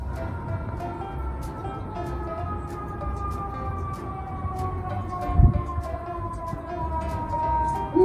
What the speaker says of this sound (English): still feels proud whenever he hears the alarm sirens